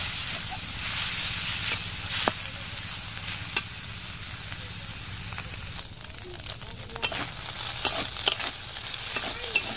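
Emperor fish pieces shallow-frying in a pan in a village kitchen, a steady close sizzle and hiss with scattered sharp pops and crackles that grow busier toward the end.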